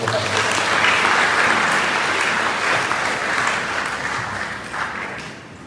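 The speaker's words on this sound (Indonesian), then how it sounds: "Kita beri tepuk tangan yang mulia buat Tuhan." A church congregation at a final year-end worship service claps in praise, a full, steady wash of applause from many hands that gradually tapers off.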